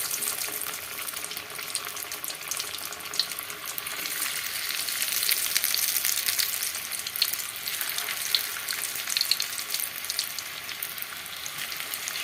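Potato strips deep-frying into french fries in hot oil in a small pot, giving a steady, fairly quiet bubbling sizzle that holds without a break throughout.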